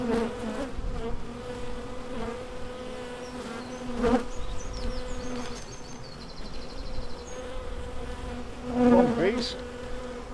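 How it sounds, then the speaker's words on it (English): Honeybees buzzing steadily and close, a dense droning hum with individual bees flying past, louder briefly near the end. "Bees."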